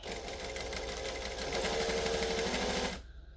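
A home sewing machine backstitches soft fabric in a steady, close mechanical whir that runs continuously for about three seconds and then stops abruptly.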